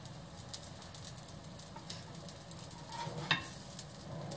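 Food sizzles in a very hot frying pan, a steady close crackle with scattered sharp pops and spits throughout, with no voices.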